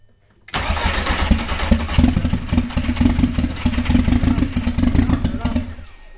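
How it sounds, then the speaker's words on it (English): An engine under construction cranks over, then fires and keeps running with a loud, steady, rough mechanical roar and clatter for several seconds before trailing off. Voices talk briefly alongside it. "Don't try to keep cranking it. Don't do that. It's firing."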